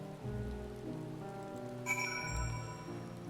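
Steady rain from the Final Fantasy 14 video game falls in the snowy, cold region of Garlemald, a continuous soft patter over a low background music bed, with a few bright tinkling chimes joining midway.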